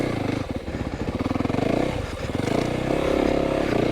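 A 2025 Yamaha YZ450FX dirt bike crawling uphill in first gear off throttle, its engine thumping in a low, rapid, even pulse up close, with clattering and scraping from the terrain and slight rises in engine load.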